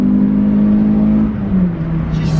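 Renault Clio 172 engine revving hard, a loud, close, sustained drone whose pitch sags slightly toward the end, with no talking over it.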